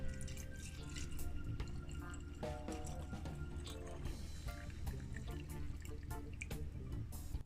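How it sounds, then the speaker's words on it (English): Hot water pours steadily and continuously into a jar for ginger lemon honey tea, a close, constant trickling and splashing with no speech. "But fill up the jar with some hot water."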